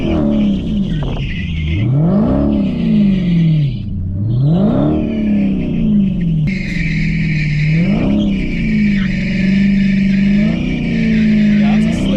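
A car drifts on a slick concrete drift pad, its engine revving up and down in loud, sweeping surges with tire and exhaust roar continuing throughout, close and steady.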